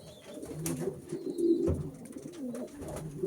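Young racing pigeons coo softly nearby, several overlapping throaty calls rising and falling, with light rustling and a few scattered clicks around them.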